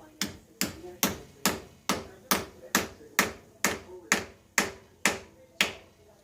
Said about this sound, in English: It's going for the big hammer.